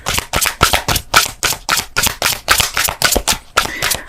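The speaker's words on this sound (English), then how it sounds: "One more shuffle." Tarot cards are shuffled by hand in a quick series of about a dozen loud, crisp riffling bursts, each a sharp papery flutter, close up with no talking.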